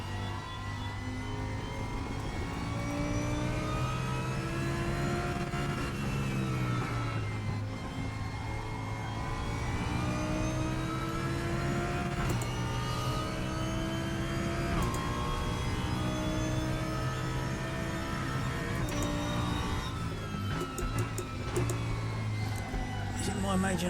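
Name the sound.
race car engine in the RaceRoom video game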